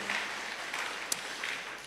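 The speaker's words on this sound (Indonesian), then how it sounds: "Berikan tepuk tangan buat teman-teman orang-orang Papua." A church congregation at a sermon by a pastor gives applause, a faint, steady clatter of many hands with a soft hollow room tone and one sharp clap standing out midway.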